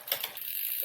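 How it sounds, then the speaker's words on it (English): A quick, close ratcheting clicks from a tool loosening the crank on a Holdsworth Super Pro bicycle, lasting under a second, with no talking. "I'm going to quickly take the crank off"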